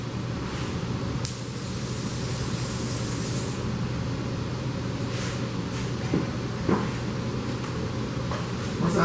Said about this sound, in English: I can just take the aerosol holding spray